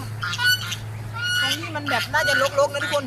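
Several ducks honk and quack close by in a noisy, overlapping chorus, with a steady low hum underneath.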